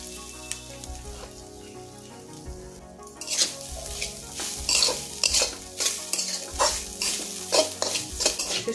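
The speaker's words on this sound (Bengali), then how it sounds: "এবার এই নারকেলটা ভেজে নেব।" Coconut fries in a pan with a steady sizzle and repeated scraping stirs of a spoon against the metal, close and clear, after a quieter opening.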